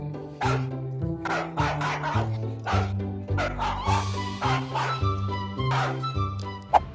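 A dog barks repeatedly at dawn, with roughly nine loud, close barks in a steady rhythm.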